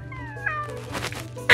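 A small cat meows several times in a short burst of rising and falling cries, close and fairly clear, with a louder final meow at the end.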